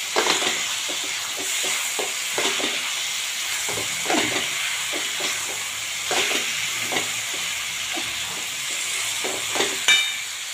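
A Gujarati-style cabbage and tomato curry seasoned with coriander-cumin powder and salt is stirred in a pan, with a constant soft sizzle and repeated scraping spatula strokes up close, and no voices.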